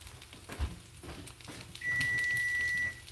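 A kitchen timer sounds a single steady electronic beep lasting about a second, loud and close, over faint background kitchen noise during home cooking of meatless meatballs.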